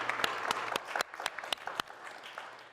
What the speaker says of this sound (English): So can we please give Rachel Arredondo a round of applause?